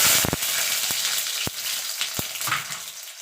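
Garlic cloves fry in hot oil for a jackfruit-seed mash, with a loud, close, constant sizzle broken by sharp clicks and knocks of stirring.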